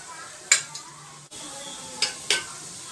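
Diced potatoes fry in oil for aloo dum biryani with a soft, steady sizzle. A few sharp utensil clinks and stirring scrapes stand out near and fairly quiet.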